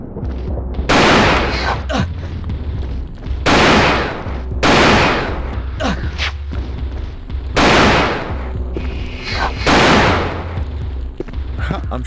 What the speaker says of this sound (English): I'm shooting you with a shotgun.